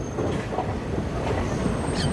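The Salasar Express rolls along, a continuous close rumble of wheels on track with faint squeals and rattling carriage noise.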